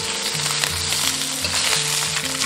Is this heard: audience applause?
no